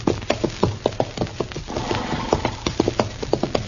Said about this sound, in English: Darn horse.